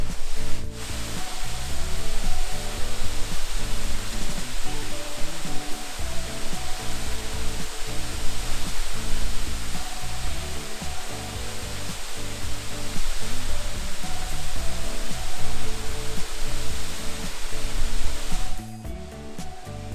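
Webster Falls, a waterfall in Hamilton, Ontario, heard from a lookout point as a steady broadband roar, loud and continuous, with no speech, cutting off near the end.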